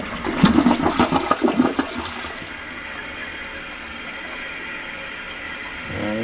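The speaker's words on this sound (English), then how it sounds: "And I'm going to flush it." A household toilet flushes loudly with a gurgling rush of water, then the tank refills with a steady, quieter hiss of running water that ends in a brief squeal.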